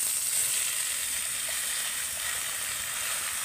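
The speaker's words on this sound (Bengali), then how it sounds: "এবার আমি কেটে রাখা চাল কুমড়োগুলো দিয়ে দেব" Cut ash gourd hitting hot oil with panch phoron in a pan, giving a soft, even, continuous sizzle that stays fairly faint and steady throughout, no voices.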